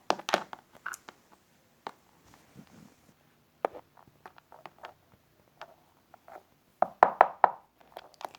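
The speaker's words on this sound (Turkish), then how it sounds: "Kapıyı azıcık tıklatırsanız sevinirim." Knocking on a door in a pretend pizza-delivery game: a few scattered sharp taps early on, then a tight burst of several raps near the end, fairly close and moderately loud with quiet gaps between.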